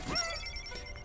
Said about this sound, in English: I hear a ton of notifications.